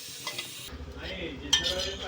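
Bottle gourd stirred and roasted in a pan for a Gujarati thali, with a soft sizzle and scraping spoon strokes against the metal and a brief sharper clink near the end, close and moderately loud with no talking.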